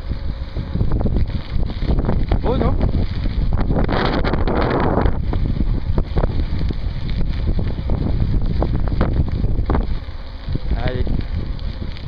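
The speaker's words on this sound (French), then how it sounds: "il y a le vent dans le dos" Strong wind buffets the microphone throughout in a steady roaring rush at a medieval site in Fos-sur-Mer, with a brief spoken remark partway through.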